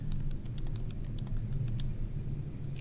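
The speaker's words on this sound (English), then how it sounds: "I'm going to type in my numbers for L2" Numbers tapped into a calculator keypad, a quick irregular run of light, close plastic key clicks over faint room hum.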